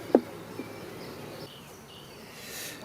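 Honeybees buzzing around an apiary beehive: a soft, faint, continuous insect hum with a few brief louder buzzes as individual bees pass close, in a quiet outdoor setting.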